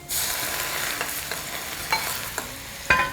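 Hot oil is poured over minced garlic, dried shallots and scallions in a heatproof glass bowl, giving a sudden loud sizzle that fades gradually, with a few sharp clinks near the end.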